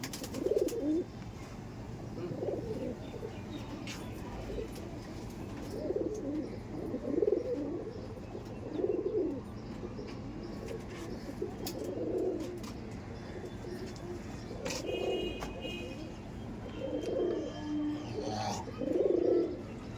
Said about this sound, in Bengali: এই দেখুন পায়রা দেখুন, পুরো ফুললি টেম পেয়ার, ফুললি ডিম দেওয়া পেয়ার